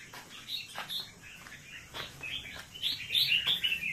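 Caged songbirds at a bird keeper's place chirp and tweet in quick, bright bursts, several calls overlapping and growing busier and louder near the end.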